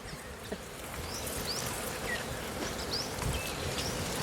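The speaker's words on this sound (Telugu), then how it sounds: "పగిలిపోతాయి ఈగలు అన్నీ చూడు ఎట్లా వేసినాయి" Wild honey bees swarm around a hill hive, a dense, continuous buzzing hum close by, with no one speaking.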